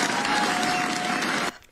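A crowd claps steadily in a dense, even wash that breaks off abruptly near the end, leaving near silence.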